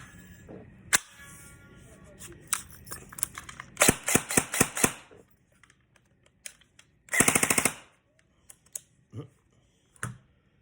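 A cheap plastic airsoft gun with a broken clip fires in short bursts of rapid, loud clicking snaps, split by single shots and mechanical handling clatter, with a brief voice in the background.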